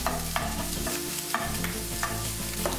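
Potatoes and bacon frying together in a pan, a steady close sizzle with a constant buzzing hum underneath and occasional soft scrapes of stirring, no talking.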